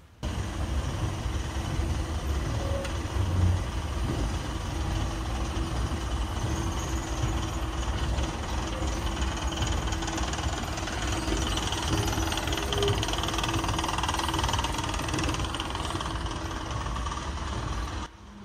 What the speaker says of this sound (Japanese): ちなみにこのエスカレーター、なんかよくわからないカタカタした音がしています。